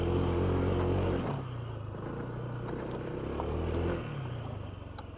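A Honda ADV 160 scooter with CVT transmission climbs an off-road hill, its engine droning loudly at first and then easing to a lower, steadier hum as it motors upward.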